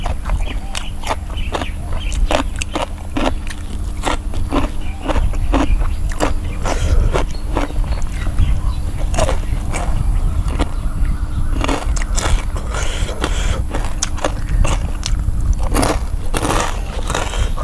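Crisp, crackling bites and crunches of fried pork rinds, chewed close to the mic in a steady rhythm of sharp snaps over a low background hum.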